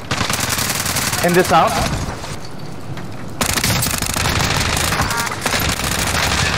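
Dense automatic gunfire from Call of Duty Warzone, set on the Alcatraz map, rattles almost nonstop and drops away only briefly midway. A player's voice talks over the shooting.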